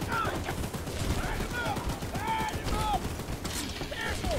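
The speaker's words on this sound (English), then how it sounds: "I'll hop on the minigun." A minigun in the Choo Choo Charles video game fires as a dense, continuous clattering barrage, with whining tonal sweeps and mechanical noise layered over it, steady and loud throughout.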